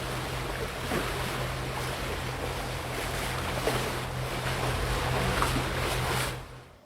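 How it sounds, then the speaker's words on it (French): Sea waves wash against a boat out on the water, a broad, continuous rush with a low hum and some wind buffeting, steady until it fades out at the end. "notamment des bruits de vagues."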